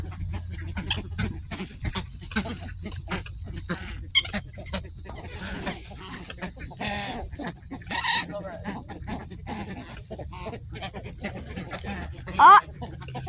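A crowd of birds, with clucking fowl among them, gathers while bread is fed to them outdoors, calls scattered throughout under frequent nearby talk from several people.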